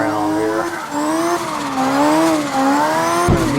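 A BMW in the CarX drifting game on the St. Petersburg track, its engine revving and wavering with rising and falling pitch and tire squeal over it, loud and close throughout.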